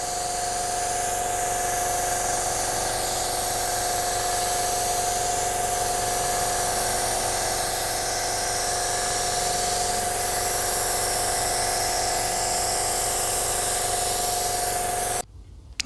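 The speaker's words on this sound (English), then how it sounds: "I really have to mention how well this paint gun sprays. This is the Porpoise PRD 627, and it has a split tip." A Porpoise PRD 627 split-tip spray gun hisses paint in one long, steady, loud blast with a constant whine underneath, holding for about fifteen seconds before cutting off abruptly.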